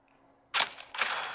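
Two sharp synthetic gunshots from the Android game Forces of Freedom ring out about half a second apart, each loud with a short echoing tail, over a quiet background.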